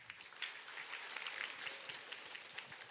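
Faint, distant clapping from a seminar audience at a marketing presentation, a dense, even patter of many hands that holds steady throughout without rising or falling.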